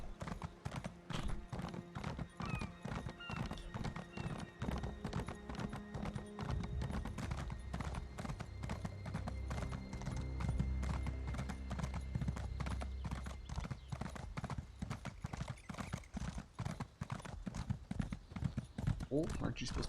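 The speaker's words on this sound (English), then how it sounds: "Let's hop on our trusty steed and away we go." Horse hooves gallop rhythmically in the Elder Scrolls Online game, a fast steady clip-clop running the whole time with an occasional whinny, while a voice talks over it.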